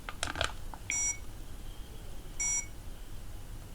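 Two short, high electronic beeps from a talking digital thermometer sound about a second and a half apart, preceded by faint clicks, in an otherwise quiet room.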